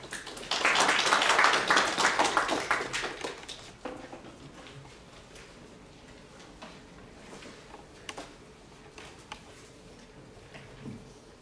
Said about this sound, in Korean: 나오실 때 다시 한번 큰 박수 부탁드리겠습니다